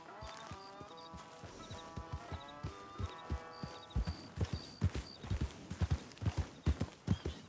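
Horse hooves clip-clop in a video game with a steady, close rhythm that grows louder and more tightly spaced, set against a soft tonal background.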